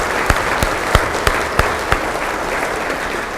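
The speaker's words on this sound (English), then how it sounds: "A little round of applause for all of them." An audience applauds storytellers on stage with a steady wash of clapping, loud, continuous and close, with a few sharper individual claps standing out.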